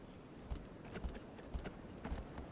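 Horse hooves from the video game Shadow of the Colossus clop in a steady, evenly spaced walking rhythm, faint and soft under a low background hiss.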